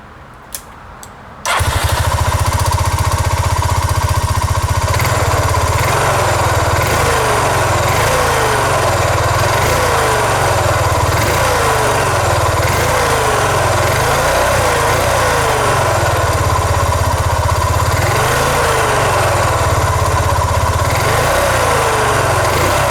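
A Honda Rancher ATV with a reported engine noise fires up after a quiet moment, then settles into a steady, loud idle with a rhythmic, throbbing pulse that repeats in regular waves.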